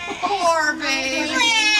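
Performing parrot at a bird show imitating a baby crying, a short, close, whiny wail lasting under two seconds.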